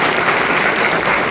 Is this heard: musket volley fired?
no